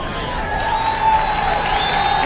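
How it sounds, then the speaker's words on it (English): Large motorsport grandstand crowd at the Valencia MotoGP race applauding and chanting for a rider, a steady wash of distant cheering and clapping with engine whine threading through. "Dani Pedrosa receiving some real well-deserved applause and chanting"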